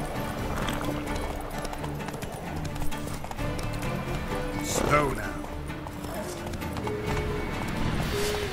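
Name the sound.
horse Roach galloping and neighing in The Witcher 3 video game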